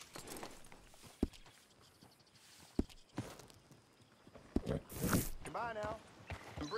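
Horse hooves clip-clop at a walk in the Red Dead Redemption 2 video game, a few distinct thuds spaced irregularly, close by, amid game ambience with a voice speaking over them.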